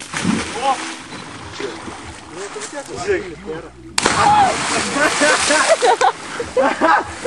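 A loud broadband splash from someone diving headfirst into water about three metres deep, cutting in sharply midway through and followed by sloshing, with excited voices talking over it throughout.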